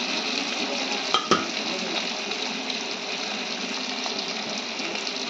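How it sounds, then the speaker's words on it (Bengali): Dried Bombay duck (lote shutki) fries with spices in a pan, giving a loud, continuous sizzle. A couple of sharp utensil clanks against the pan come early on, and no one speaks. "দেখো তো লোটে শুটকিটা ভেজে তারপরে মশলাগুলো দিয়ে দিচ্ছি।"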